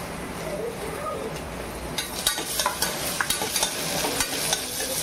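Onion frying with garlic-ginger paste for a spicy masala khichdi, a constant hissing sizzle joined midway by rapid scraping stirring strokes against the pan, close and steady.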